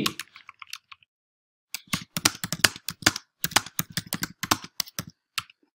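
Typing on a computer keyboard, quick irregular bursts of clicking keystrokes close up, a short pause then a rapid run of taps, with no talking.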